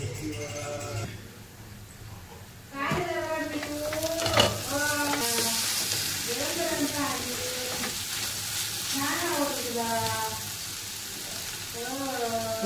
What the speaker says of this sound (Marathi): असं तिला मध्ये मध्ये एक दोनदा असं ठेवून आपण परतून जायचं म्हणजे भाजी खाली लागणार नाही.